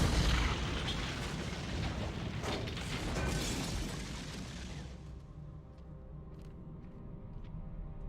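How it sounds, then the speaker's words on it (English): An overloaded suicide collar detonating in Batman: Arkham Asylum, heard as a heavy rumbling blast that rolls on for several seconds before fading into a lower mechanical hum with a few faint clicks. "Detonated, overload, suicide collar."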